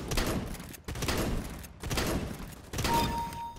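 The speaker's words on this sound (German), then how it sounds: "das war ein Schrotflinten-Duell" Shotgun duel gunfire in Counter-Strike: Global Offensive: four heavy, loud blasts spaced almost evenly, each with a short rough decay, separated by brief silent gaps.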